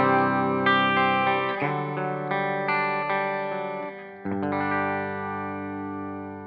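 A Reverend Sensei RA electric guitar on its bridge pickup, played clean through a Blue Guitar Amp 1 clean channel, rings out in strummed chords and sustained notes, steady and fairly loud.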